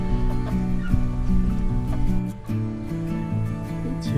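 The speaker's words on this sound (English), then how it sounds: "the vast majority of the chickens were inside the barn staying warm with the goats" Many chickens cluck and chatter together close by inside a barn, a busy continuous flock sound with a steady hum in the background.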